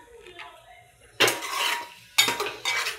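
A utensil stirs masala with turmeric and asafoetida in a pan, two bursts of loud metallic scraping and clattering separated by a short pause, close by and with no talk.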